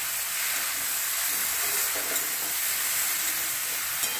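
Okra sizzles steadily in oil in a kadai, a dense, even hiss of frying with soft stirring scrapes and a couple of faint clicks, no talking.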